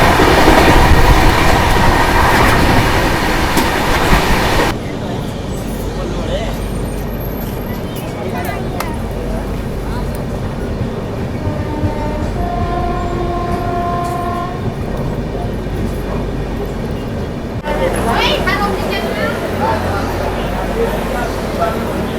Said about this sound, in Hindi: अपनी ट्रेन 10 मिनट की देरी से पहुंच चुकी है अपने हरियाणा के पहले स्टॉप बल्लभगढ़ रेलवे स्टेशन पर